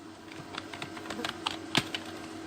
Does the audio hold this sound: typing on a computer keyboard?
yes